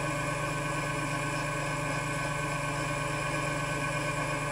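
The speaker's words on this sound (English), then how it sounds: "My lathe is a belt-driven lathe" A belt-driven mini lathe running at a fixed speed while turning a cork fly rod grip, giving a steady, even motor hum and whir close by that never changes, with no talking.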